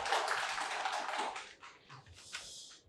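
A seminar audience applauds to welcome the district mayor at an opening ceremony, with dense clapping for about a second and a half that thins into scattered claps and fades.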